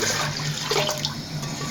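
Homemade chicken bone stock (yakhni) pours steadily into a pan for a white-sauce chicken pasta, a continuous close liquid splashing and trickling with no talk.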